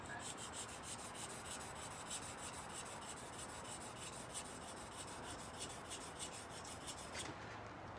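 The tip of a tanto knife is sharpened on a 400 grit stone, giving a steady, close scraping rasp with fast rhythmic strokes that stop near the end, with no voice.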